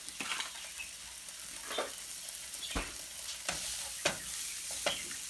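Garlic cloves fry in oil in a pan for Mexican arroz con pollo, a steady broadband sizzle with several sharp scraping stir strokes spaced across the span, close and moderately loud with no talking.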